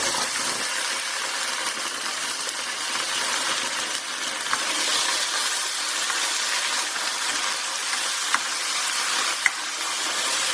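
Onions fry in a pan as tomato puree is stirred in, giving a steady broad sizzle for the whole stretch with a few sharp clicks from the spoon, no talk.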